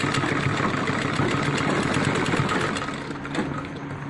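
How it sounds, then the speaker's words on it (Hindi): Sewing machine stitching the bottom hem of a pair of jeans, a steady close mechanical whir and rattle running continuously, easing slightly near the end. "ऐसे करके क्रॉस करके इसको सिलाई ले लेंगे यहाँ से"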